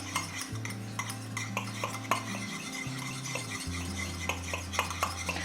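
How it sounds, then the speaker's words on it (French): A thick homemade eye contour mask mixture being stirred in a bowl, with continuous close scraping and light clinks of a utensil against the sides and a low steady hum behind it. "Donc je vais continuer à mélanger"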